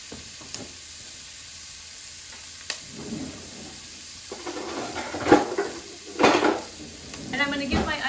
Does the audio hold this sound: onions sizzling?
yes